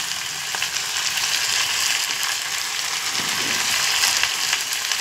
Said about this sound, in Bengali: মশলা দিয়ে ভালো করে কষে নেব।